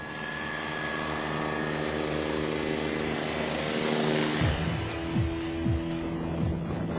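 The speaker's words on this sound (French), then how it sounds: "40 hélicoptères interviennent par tous les temps" A French civil security rescue helicopter flies overhead, a loud continuous rotor and turbine roar that rises and shifts in pitch as it passes and then moves off.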